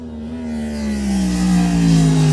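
A Yamaha motorcycle engine on throttle at a riding school track, a loud, close, steady drone whose pitch sags slowly while the revs hold, with no voices.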